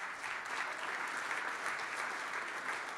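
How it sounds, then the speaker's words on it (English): Sustained audience applause at a hackathon closing ceremony, steady dense clapping from a crowd throughout, fairly distant and even in level with no pauses. "Round of applause for GoodGhosting."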